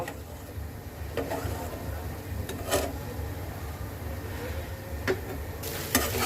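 Goat liver stir-fried in a pan at home, a steady low sizzle with scattered scraping and stirring clicks of a spatula against the pan.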